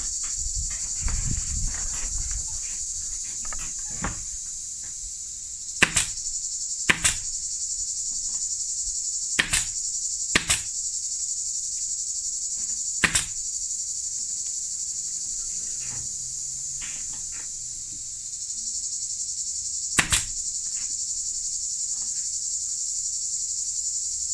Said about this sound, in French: donc on a le bruit des cigales